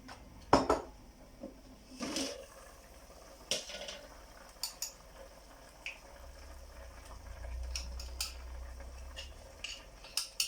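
Lamb stew thickened with a paste and stirred in a pot: sparse, quiet clinks and scrapes of a utensil against the pot, spaced a second or two apart, over a soft low background.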